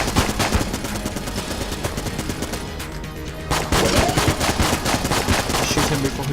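Rapid, dense gunfire from the Enter the Gungeon video game, loud and nearly continuous across the whole stretch, with a brief lull in the middle before the shooting resumes even heavier.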